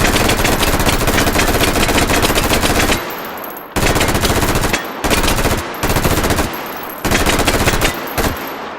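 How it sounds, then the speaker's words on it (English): Full-auto firearm bursts, loud and close, a long continuous stream of rapid shots followed by several shorter bursts separated by brief pauses. "Let's go for the full auto."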